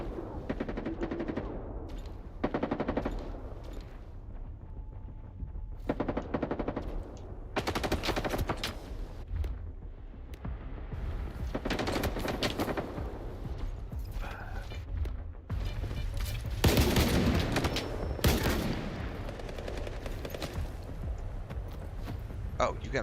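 Gunfire in the video game S.T.A.L.K.E.R. 2 comes as repeated loud bursts of automatic shots with pauses between volleys, mixed with a voice talking over the game.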